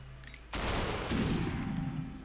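A sudden burst of gunfire from the video game Superhot, a sharp loud blast followed by a dense rattling volley that carries on to the end, with no voices.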